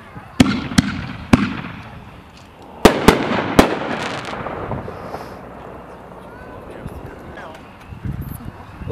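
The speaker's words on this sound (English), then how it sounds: "These shells are all being shot out of one of Eric Alma's racks, angle racks." Consumer 1.4g firework shells launch from angle racks at a night demo, with several sharp booming reports in two clusters. Crackling tails follow, then a quieter, rumbling stretch with distant crowd noise.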